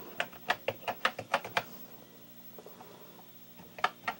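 Typing on a Commodore 64 keyboard: a quick run of about eight sharp, close key clacks, then a quiet pause and a few more keystrokes at the end.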